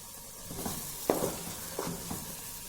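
Semolina halwa roasting on a tawa over high flame, a soft steady sizzle with a few faint scraping stirs of the spoon against the pan, quiet and without talk.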